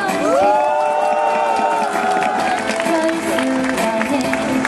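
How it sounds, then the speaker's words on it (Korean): A crowd at a cold-weather outdoor political campaign launch rally applauds and cheers loudly, dense clapping with whoops and shouts sustained throughout, a few voices standing out above the roar. "서로에게 격려의 박수 부탁드립니다."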